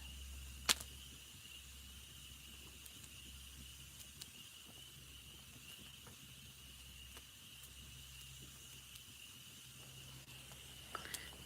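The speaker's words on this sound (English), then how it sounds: "Those are my crickets. Or katydids." Faint, steady insect chirring fills a quiet night, a continuous high buzz with a few soft clicks and a low hum underneath.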